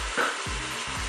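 Turnips fry in a Cookeo multicooker on browning mode, a steady loud sizzle with a few low scraping stirs.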